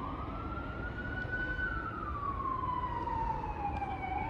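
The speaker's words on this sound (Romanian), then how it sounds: "dar s-aud sirenele" Emergency vehicle sirens wail steadily in the distance in Bucharest, their pitch slowly rising and falling over a constant rumble of traffic.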